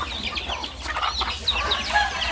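Chickens squabble and threaten one another on a farm, with a rapid stream of agitated clucks and squawks overlapping close by for a couple of seconds.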